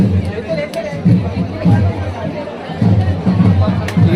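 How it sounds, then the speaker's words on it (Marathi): A large crowd gathered for the Shri Dev Rameshwar palanquin procession during Diwali fills the air with steady, close babble of many overlapping voices. "इथे गर्दी पहा केवढी आहे ती"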